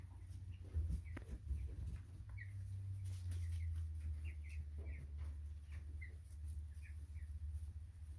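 American Bresse chickens cluck and call softly in a farm setting, a scatter of faint, brief bird sounds over low rumbling background noise, with no talk.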